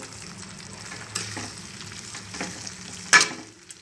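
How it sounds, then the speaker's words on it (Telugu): Ground tindora (ivy gourd) chutney is stirred into a hot tempering seasoned with asafoetida, giving a faint, steady sizzle, soft scraping strokes and a sharp clink near the end. "ఈ దొండకాయ పచ్చడిని ఇందులో వేసుకోవాలి రోటి పచ్చడిని వేసుకొని కలుపుకోవాలి"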